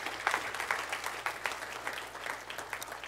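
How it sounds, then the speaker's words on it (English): Applause from an audience at a gathering, a fairly thin round of clapping with uneven individual claps rising and falling, moderately close and steady for a few seconds with no one speaking over it. "I'm giving this lady a round of applause."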